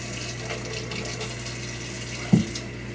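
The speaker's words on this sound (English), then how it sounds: "And I run cold water over the whole pot." Cold tap water running steadily into a pot of cooked taco meat in a kitchen sink, a constant splashing hiss with one brief louder thump near the end.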